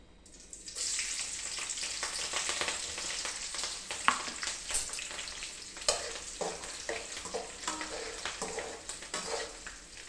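Green chillies hit hot oil in a pan and sizzle loudly, crackling and popping steadily with occasional sharp spits and stirring clatter, close and with no voices.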